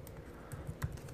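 A name typed on a computer keyboard, a few quiet, separate key clicks heard close up over light background hiss.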